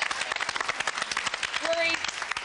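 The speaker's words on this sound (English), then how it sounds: "Round of applause for you guys." A studio audience at a televised celebrity dance competition applauds in a steady, dense patter of clapping that runs for the whole clip, heard at moderate level with faint tones underneath.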